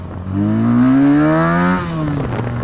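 A small 2017 SSR motorcycle, a Honda Grom clone with stock exhaust, revs up with a rising, buzzy exhaust note, holds briefly, then drops back to a rough idle; close and loud.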